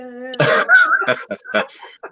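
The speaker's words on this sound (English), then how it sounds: "Let me clear my throat." A few rough, throaty bursts of someone clearing their throat close to a church microphone, short and uneven, with a brief tonal hum just before.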